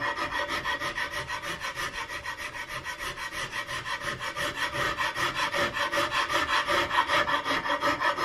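A rasp filing the wooden stock of an Investarms Gemmer Hawken rifle kit while shaping the nose, close, fast, even back-and-forth rasping strokes in a steady rhythm with no talk.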